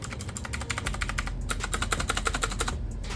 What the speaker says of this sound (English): it sounds like a blue switch keyboard would